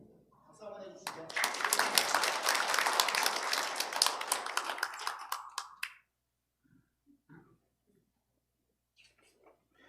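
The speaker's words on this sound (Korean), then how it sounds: "박수 한번 해주시죠" A church congregation applauds together in a dense, loud burst of clapping that lasts about five seconds, then stops abruptly, leaving near silence with a few faint, distant voices.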